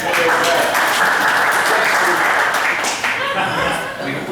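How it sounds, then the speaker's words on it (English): A room of people at a board meeting applaud in a dense, steady burst of clapping that stays loud for about three seconds and then thins, with voices mixed in. "I'd like a round of applause for Pat"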